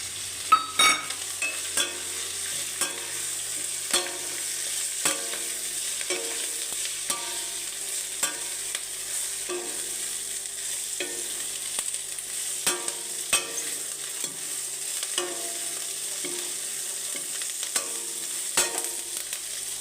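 Curry leaves frying in a pan while being stirred for chitranna, a steady crackling sizzle with repeated scraping strokes of the spoon, close and alone without talk.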